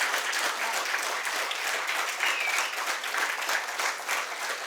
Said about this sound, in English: please claps for the movement